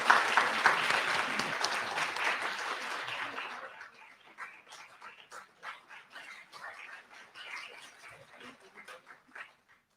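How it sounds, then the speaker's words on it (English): Audience applause at an Indian Council for Cultural Relations 73rd anniversary celebration, loud dense clapping for about four seconds that thins into scattered, fading claps. "Please be generous with the applause."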